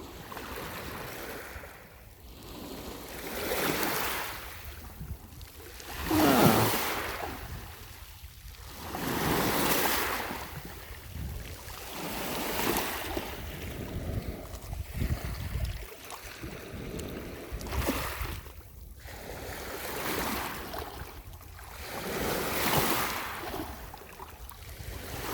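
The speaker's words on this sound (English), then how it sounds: "Love the sound of the rocks just getting kind of maneuvered around." Waves wash over a rocky, granite-rich Lake Ontario shore, surging in repeated swells every few seconds as stones tumble and grind in the surf; near and steady with no voices.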